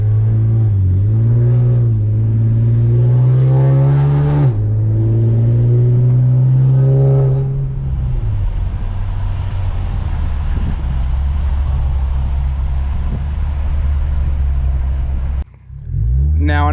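A car with its check engine light on accelerating hard on a freeway, a loud engine roar climbing through the gears with rising pitch, then settling into a steady heavy rumble and road noise.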